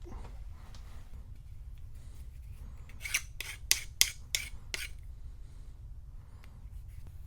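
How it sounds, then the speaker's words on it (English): Short rasping file strokes deburring a metal edge on a diamond nib holder for a drill grinder, about six quick scrapes in a row over a steady low workshop hum, close and fairly faint. "I'm going to deburr that edge because there's quite a burr on it"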